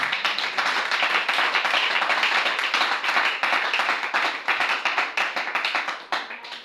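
A church congregation claps together in steady, dense applause that fills the whole stretch, loud and close, with no voices over it, tapering slightly at the end.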